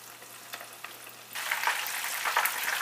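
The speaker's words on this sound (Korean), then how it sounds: "기름을 좀 넉넉하게 둘러주세요. 자, 이렇게 해서 한 3분 정도 또는 4분 정도 튀기시면 됩니다." Chicken cutlets fry in a generous layer of oil: a light crackle with a few pops, then a sudden louder, denser sizzle that holds steady and close.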